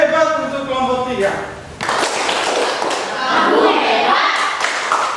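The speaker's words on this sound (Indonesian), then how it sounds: "Tepuk hebat untuk kelompok 3." A classroom of students performs a rhythmic 'tepuk hebat' clap for group 3, a short patterned burst of claps and thumps, with a child chanting along and other voices following.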